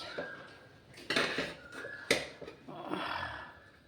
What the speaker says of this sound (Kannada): ಸೊ ಪಾತ್ರೆ ತೊಳೆದು ತೋರಿಸ್ತೀನಿ ನೋಡಿ